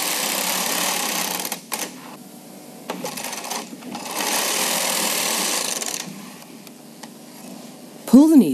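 A Bond Classic knitting machine knits two rows, its carriage sliding back and forth in long mechanical rattling sweeps separated by short pauses, close and fairly loud, with a brief voice at the end.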